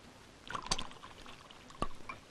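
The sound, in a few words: pouring arrack liquor into a glass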